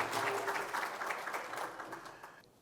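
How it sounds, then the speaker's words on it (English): Audience at a Jamaican government service excellence conference and awards event applauds Reverend Astakala, a brief, fairly faint patter of clapping that thins out and fades to near silence. "For that, he deserves a better round of applause than that."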